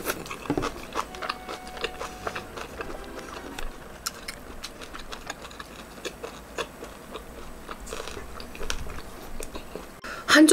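LA galbi, Korean marinated short ribs, is chewed up close, with repeated moist biting and crunchy chewing sounds in an irregular rhythm and a louder crunch near the end.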